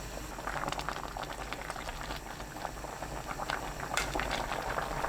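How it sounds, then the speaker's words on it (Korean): Potato and cabbage soup thickened with rice flour and perilla powder boils hard over high heat, a dense continuous bubbling and popping at close range with no voices. "센 불로 1분 30초 끓이면 오늘 요리 끝!"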